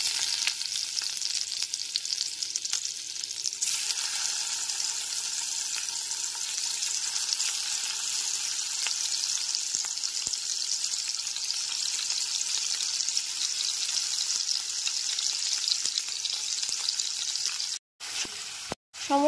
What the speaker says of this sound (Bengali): এবারে হালকা করে পনিরের টুকরোগুলোকে ভেজে তুলে নেব।